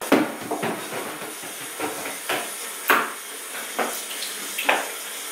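Tap water pouring into a 50-quart bucket, a steady hissing splash with repeated louder gurgling surges every half second or so, heard close and alone.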